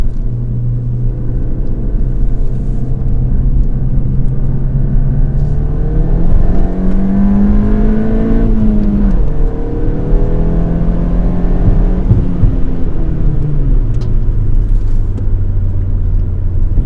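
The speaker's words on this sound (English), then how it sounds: "Time to take it up through some corners now. Get a real feel for this torque in the lower gears." A Ford Fiesta ST with a Revo Stage 2 tune pulls hard through corners in second gear. Its engine drones loudly from inside the cabin, rising and falling in pitch as it accelerates between bends, with no talking.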